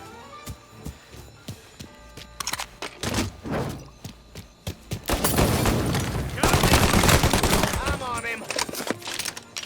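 Gunfire in the video game Mafia Definitive Edition, sharp scattered shots building into dense rapid bursts and sustained volleys that grow louder toward the end, with shouted voices mixed in.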